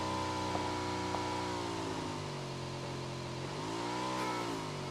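A motorcycle engine in a video game revs steadily with rising and falling pitch, a continuous close whine over a brief moment, with no talking.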